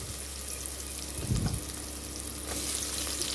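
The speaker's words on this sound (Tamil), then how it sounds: "இஞ்சி சேர்த்தது கொஞ்சம் அடி பிடிக்கும் நம்ம இதெல்லாம் பார்த்து கிண்டணும்" Garlic, shallots and ginger frying in a pan give a continuous close sizzle, with a brief louder scraping burst of stirring midway and no voices.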